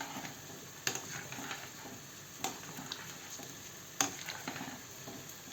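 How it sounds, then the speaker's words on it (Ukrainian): The back of a spoon stirs and scrapes varenyky dumplings in a pan with a steady low sizzle, giving a few sharper clinks against the metal. "другою стороною ложки ми їх трошечка так помішаємо"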